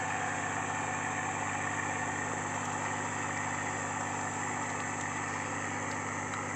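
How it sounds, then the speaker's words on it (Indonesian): A motorbike known locally as a motor Bandung idles in Kapuas Hulu, Kalimantan, with an even, continuous engine hum and buzz that holds steady throughout at a moderate distance, with no speech. "Halo guys, ini motor Bandung."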